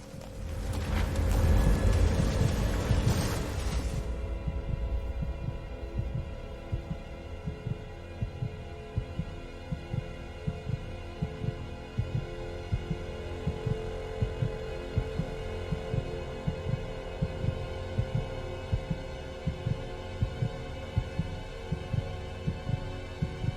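Heartbeat in the Alfred Hitchcock Vertigo video game, a steady, repeating low thump over a droning hum, following a short loud burst of noise at the start.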